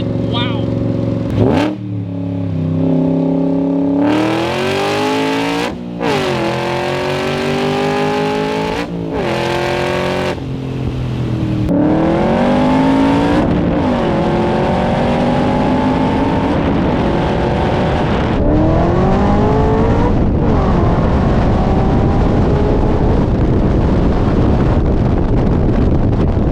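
A 2020 GT500-swapped Shelby Cobra with about 760 horsepower accelerates hard through the gears. The loud engine roar climbs in pitch and drops at each shift, under heavy wind rush.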